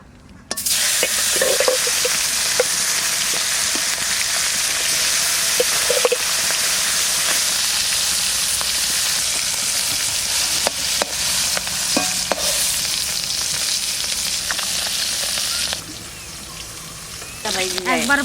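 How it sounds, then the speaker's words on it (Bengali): Fish fries in mustard oil in a kadai, giving a loud, steady, close sizzle that runs unbroken throughout, with occasional clinks and stirring scrapes and a brief dip in intensity near the end. "মাছ ভাজা করব সরষের তেল দিয়ে।"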